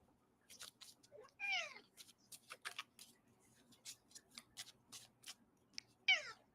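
A pet cat meows twice, clear and fairly close, each call a short rising-falling cry, amid scattered ticking and tapping noises in a quiet room.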